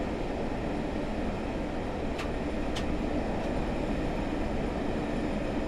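A diesel-hauled empty coaching stock train in Train Simulator 2017 runs over the London Bridge to Selhurst route, a steady rumbling rail roar throughout with a couple of faint clicks from the track.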